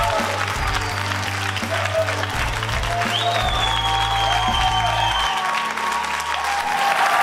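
A studio audience at a televised talent show chair-challenge round applauds loudly and steadily, dense clapping from a large crowd that fills the whole stretch, with music playing underneath.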